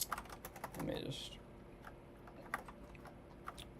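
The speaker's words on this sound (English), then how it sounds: "Why the fuck is my keyboard not responding?" Rapid typing on a computer keyboard at a desk, close and fairly quiet, with a brief murmur of voice early on and a few sharper key clacks toward the end.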